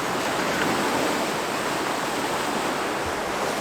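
Water drains from a narrowboat canal lock, a steady loud rushing roar like a small waterfall, continuous and unbroken throughout with no voices.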